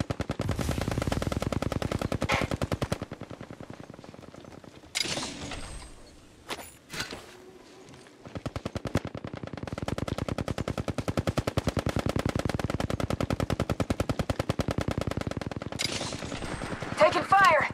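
Automatic weapon fire in the mobile battle-royale game Apex Legends Mobile, long rapid rattling bursts with a short break in the middle filled by scattered mechanical clanks before the steady firing resumes.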